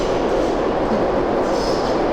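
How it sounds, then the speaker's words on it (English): A New York subway train arrives with a loud, steady roar of wheels and rumbling cars that fills the station, plus a brief high squeal partway through, and no voices. "that's my subway."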